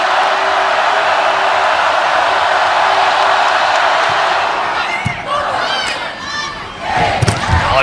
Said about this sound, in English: And the applause, the appreciative applause from this